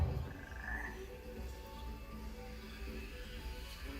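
Frogs croaking in the video game Hogwarts Legacy, a steady low chorus of repeated croaks with faint ambient game sound beneath.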